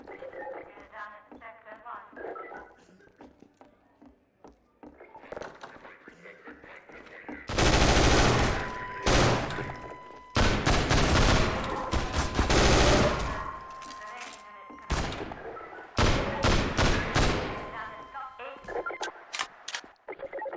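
Rapid automatic gunfire and bursts of shots in a video game, loud clattering volleys that start and stop repeatedly, with a voice talking between the bursts.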